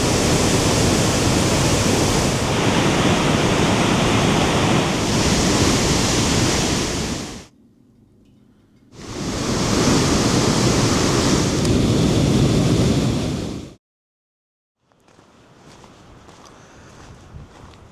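A waterfall on the North Shore of Lake Superior rushes with spring snowmelt runoff, a loud, dense, steady roar. It cuts off abruptly twice and returns after the first break, with quieter ambience at the end.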